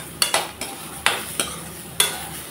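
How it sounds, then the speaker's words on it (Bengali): Lentils (dal) lightly fried in a pan, stirred with a spoon that scrapes and taps about six times in uneven strokes over a soft background sizzle, close and alone. "আমি ডালটা বেশি ভাজবো না, একেবারে হালকা করে আমি ভেজে নেব"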